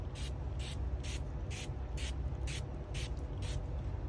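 A hand spray bottle mists plain water onto houseplants in a quick, even rhythm of about eight short hissing bursts over a steady low background hum, with no one talking.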